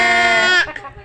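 A young child imitates a goat, giving one long, loud, nasal "meh" bleat up close that breaks off into a short trailing sound.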